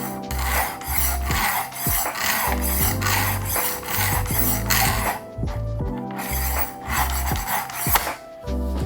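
A bunka kitchen knife is drawn repeatedly through a spring-loaded sharpener: loud, close metallic scraping strokes with ringing tones, several passes in a row, without talking.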